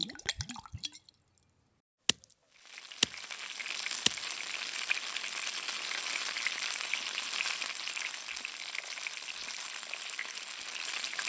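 A seafood Cheetos donut fries in oil in a tiny kitchen. A few drips and plops come first, then after a sharp drop a loud, steady sizzle fills the rest, with scattered pops.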